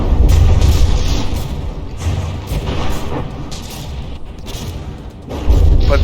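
Battleship mortars fire repeatedly in a From the Depths naval tournament brawl, heavy booming thuds recurring every second or so amid a constant rumble of battle.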